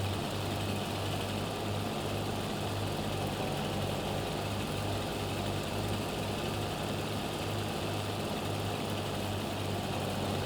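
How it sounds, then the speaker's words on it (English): A cotton harvester's engine runs steadily in a farming video game, a continuous low droning hum with a mechanical whine on top, holding even and unbroken throughout with no talk. "We have turned on the harvester."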